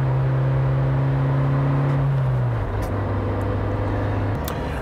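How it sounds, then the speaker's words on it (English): A Suzuki Jimny with a manual gearbox whirs steadily while driving, its pitch dropping at a gear change partway through, over continuous road and engine noise inside the cabin. "you do get quite a bit of transmission noise"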